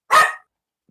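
A dog lets out one short, sharp, angry bark, loud and close, followed by silence.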